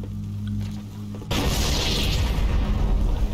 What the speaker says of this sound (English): Well, they're throwing grenades at the flood.